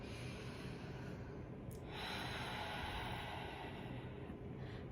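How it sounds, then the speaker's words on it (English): A slow, close breath drawn in through the nose during a meditation exercise, a soft airy rush swelling in the middle and then easing off, with no talking. "So when I breathe in"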